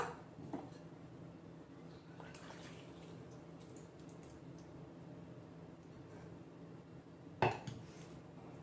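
A spoon stirs mango pickle mixed with cooled oil in a bowl, giving faint, steady scraping and soft knocks in a quiet kitchen, with one sharp clink of metal on the bowl near the end.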